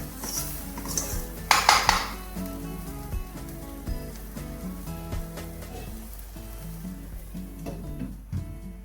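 A pan of paneer masala is covered with a lid, a burst of metallic clatter early on, then quieter clinks and a faint sizzle continue while music plays underneath.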